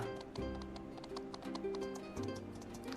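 Horse galloping in the video game My Time at Sandrock, a steady rhythmic clip-clop of hooves running continuously under a layer of game music, with no talking.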